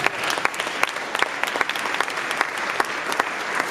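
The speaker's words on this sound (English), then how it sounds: "give him a round of applause" An audience at a youth male summit in Houston breaks into loud, dense applause, many hands clapping together close and full for a few seconds.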